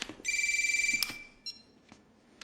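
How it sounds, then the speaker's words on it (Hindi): A telephone rings indoors in a short electronic trill, one clear burst followed by fainter repeats, with no talk over it. "फोन नहीं उठाओगे क्या?"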